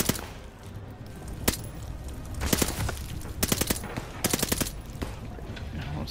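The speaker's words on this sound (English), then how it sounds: "What is the point in blind fire?" Blind-fire gunshots in Call of Duty Vanguard ring out as scattered bursts, first a single sharp crack, then rapid volleys in tight rhythmic clusters over steady battlefield noise.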